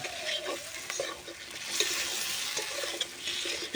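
Fish curry with salt being stirred in a pan, soft scraping and wet sizzling from the cooking food, quiet and close, with faint irregular clinks of the spoon against the pan.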